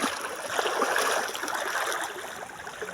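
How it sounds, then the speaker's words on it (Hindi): The Sankri river running fast and clear, a dense, steady rush of flowing water heard close up with no voices. "बहता हुआ पानी तेज़ी से।"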